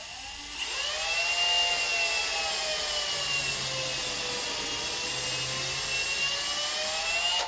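Power drill boring holes into poly panels, a steady high whine that spins up sharply and holds at a constant pitch for several seconds, close and alone.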